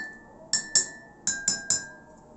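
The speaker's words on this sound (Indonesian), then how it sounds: "Yuk kita ketuk dengan cepat agar kita bisa mengetahui perbedaan suara dari masing-masing ketukan." Five drinking glasses struck quickly one after another, each a bright ringing clink that lingers briefly, the pitches differing from tap to tap, loud and close with no speech.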